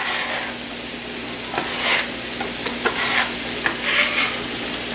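Peppers and zucchini for orzo fry in a pan with a loud, continuous sizzle, while a spoon stirs them in brief scrapes and taps.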